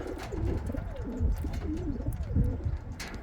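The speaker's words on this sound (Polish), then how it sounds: "Gołębie co niedzielę chętnie się kąpią." Pigeons coo close by in a loft on a Sunday bathing day, with several soft, throaty rolling coos overlapping, plus light rustling and shuffling and no speech.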